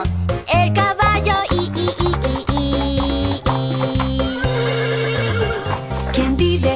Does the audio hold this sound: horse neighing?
yes